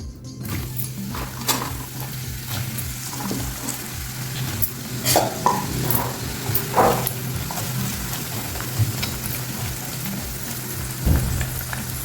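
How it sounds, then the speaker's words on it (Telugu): Sliced bitter gourd pieces frying in hot sesame oil, a steady close crackling sizzle with a low hum underneath and a few brief louder pops and stirring clatters. "ఈ సన్నగా తరిగి పెట్టుకున్న ఈ కాకరకాయ ముక్కల్ని ఇందులో వేసి వేయించుకుందాం"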